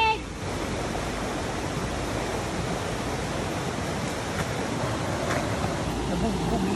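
Steady broadband rush of fast-flowing stream water, loud and continuous throughout, with faint scattered splashes and no voices.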